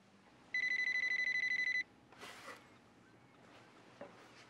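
An oven timer's bright electronic beeping rings in a rapid run of evenly spaced pulses for about a second, then stops, followed by quiet room noise and faint rustling.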